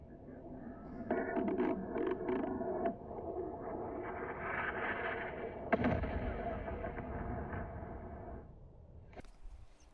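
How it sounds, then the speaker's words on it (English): An Mk-82 500-pound bomb detonating: a sharp blast about midway through a continuous, heavy rumbling roar, with a quieter crackle at the end. "It's an Mk-82 500-pound bomb."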